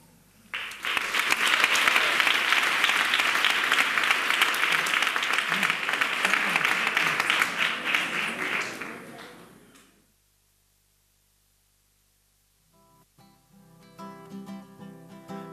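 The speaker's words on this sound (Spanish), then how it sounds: "Escuchen y aplaudan con todas vuestras energías." A large indoor audience at a carnival proclamation in San Juan de Aznalfarache applauds loudly and steadily for about nine seconds, then the clapping fades out; after a short silence, soft music begins.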